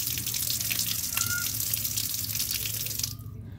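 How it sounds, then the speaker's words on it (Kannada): Water pouring steadily from a pipe into a built storage box used for washing clothes, a continuous close splashing rush that cuts off near the end. "ಇಲ್ಲಿಂದ ಬರುತ್ತೆ ನೋಡಿ ನೀರು."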